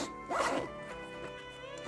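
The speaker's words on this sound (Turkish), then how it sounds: "Fermuarı da suya dayanıklı fermuar." A waterproof zipper on a pocket of a Mack MCC-006 15.6-inch notebook bag is pulled open in one quick, close, raspy zip lasting under a second.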